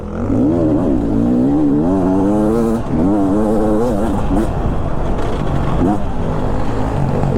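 A Beta 300 RR Race Edition dirt bike with a four-stroke engine revs and accelerates loudly and close by, its pitch rising and falling through repeated throttle bursts, then settling into a rougher, steadier drone.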